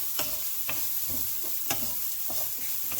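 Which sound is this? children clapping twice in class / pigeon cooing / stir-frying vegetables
stir-frying vegetables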